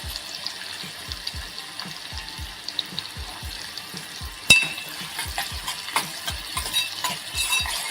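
Chopped onion and garlic cook with cumin in a pan for a Maharashtrian baingan bharta, a soft continuous sizzle under regular scraping strokes of a spoon stirring, a few louder clinks midway, and no voices.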